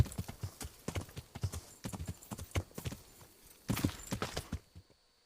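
Horse hooves clip-clop in a steady walking rhythm in the video game Kingdom Come: Deliverance, close and fairly loud, with a few heavier clusters of steps before stopping into silence.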